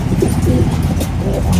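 A racing pigeon coos low and loud nearby during a smash pigeon race, a short throaty murmur with soft repeated pulses.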